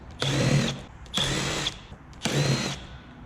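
A power drill backs out screws from the headlight of an Infiniti G37: three separate whirring bursts, each under a second long, with short pauses between them, loud and close, no talk.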